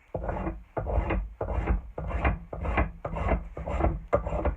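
Spoke shave cutting wood in eight even, rhythmic strokes, each a close, crisp rasping shave with brief pauses between passes.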